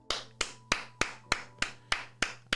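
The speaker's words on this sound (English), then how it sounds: "I'm just going to clap it up." Nine sharp hand claps in a steady, even rhythm, each a crisp close snap with a quick decay, heard alone with a faint steady hum underneath.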